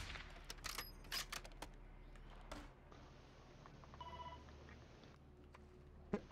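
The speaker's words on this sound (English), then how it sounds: "The phone is ringing." An office phone rings faintly in Warzone 2.0, a thin repeating trill under low background noise, preceded by distant scattered gunshots and followed by a sharp click.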